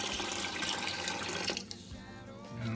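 Running water pours steadily from a tap into a pot being filled for boiling chili beans, a faint continuous splashing stream that thins out near the end.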